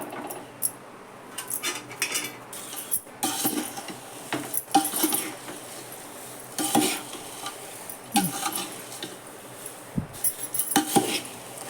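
Poha chivda is stirred in a pan with a metal spoon, giving soft irregular scraping and clinking strokes with a faint sizzle underneath, fairly quiet and close.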